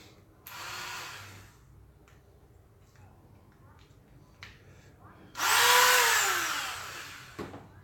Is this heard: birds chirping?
no